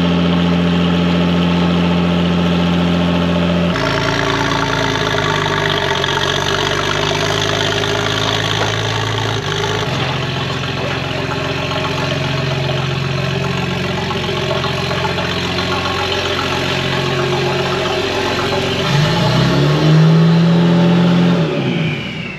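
A V12-engined Citroën Traction Avant runs loudly up close, a dense continuous engine roar that idles and revs, shifting pitch partway through and rising at the end, with no talking.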